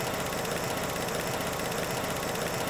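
A car engine ticks at idle, a possible solenoid fault, with a steady dense rumble running unbroken throughout, close and fairly loud, and no voices over it.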